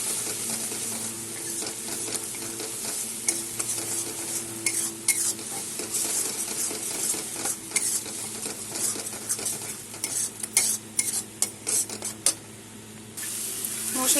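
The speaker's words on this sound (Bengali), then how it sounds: "সব একসাথে আমি এখন" Spices with cumin and turmeric powder being stir-fried in a pan for tilapia curry, a steady sizzle with repeated scraping and clinking of a spoon against the pan, no talking.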